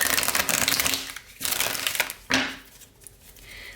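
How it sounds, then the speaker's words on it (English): A deck of tarot cards being shuffled by hand, with a dense run of papery riffling and rustling through the first half, a pause, then another burst of card noise before quieter handling. "So let's shuffle the deck and get right into it."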